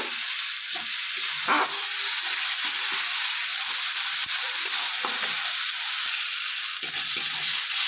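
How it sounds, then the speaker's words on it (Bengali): Fried spices, including turmeric and Kashmiri chili, being stirred in a cooking pan for a Bengali cabbage dhokla, with a continuous sizzle and scattered scraping clicks of the spoon, close and steady throughout. "দিয়ে ভালো করে আমি এটা একটু নাড়াচাড়া করে নেব"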